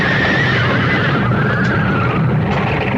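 Terrified coach horses neigh in a radio drama, a long wavering whinny sounding continuously over a dense, loud rumbling background without any talk.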